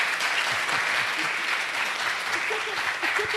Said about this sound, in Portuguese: palmas para essa fala importantíssima